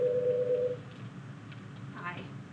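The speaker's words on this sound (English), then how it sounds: "my phone is ringing, so I'm going to pause this video for just a moment" A phone rings with a single short steady electronic tone during a spoken math lesson, then falls silent as a person keeps talking quietly.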